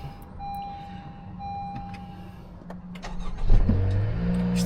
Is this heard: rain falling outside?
no